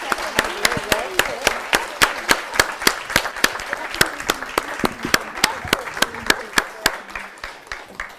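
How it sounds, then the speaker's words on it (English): Applause from an audience for a panel discussion, sharp individual claps ringing out near and loud in a quick irregular rhythm over a softer background of clapping, continuing throughout. "a huge hand of applause for this incredible panel"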